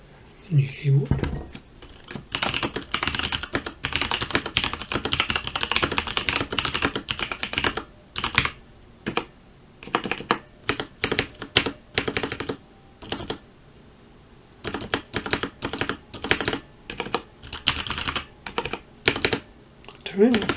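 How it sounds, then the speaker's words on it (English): Rapid typing on a new Mountain Everest Max mechanical keyboard, recorded close: crisp clacking keys and spacebar thocks come in long runs separated by brief gaps. "I really like the sound of that spacebar, but the main keys sound awesome."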